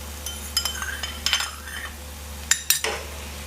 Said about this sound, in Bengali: আমি ভালো করে মিক্স করে নিই।